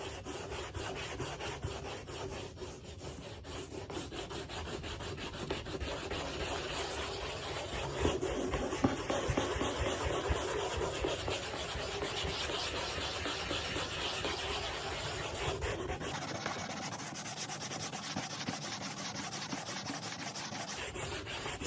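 Sandpaper rubs back and forth over the wooden wings of a Tornado Updraft 12 model aircraft, a close steady rasping scrub that continues for a long stretch.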